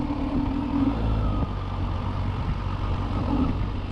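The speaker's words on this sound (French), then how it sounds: "le son du moteur est valorisant, c'est vraiment agréable" A Kawasaki Z H2 four-cylinder motorcycle engine drones steadily nearby with a smooth, even hum and a faint tonal whine rising and falling briefly.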